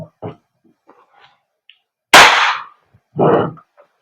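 A WE Glock 17 Gen 5 airsoft gas blowback pistol fires one sharp, loud crack with a short hissing tail, set between quiet bursts of nearby speech.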